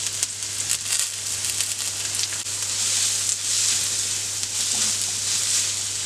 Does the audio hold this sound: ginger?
yes